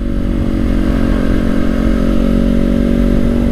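A Honda CBR250RR MC51 parallel-twin motorcycle engine howls at high revs, a loud, steady, close-up drone with strong harmonic tones holding throughout, with no speech.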